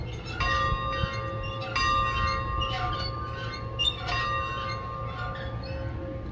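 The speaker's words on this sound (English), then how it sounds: "You ring the bell. Here's the bell lever." A steam locomotive bell rings from the cab at Newhalem, Washington, struck in slow intermittent clangs with long ringing tones over a steady low engine hum.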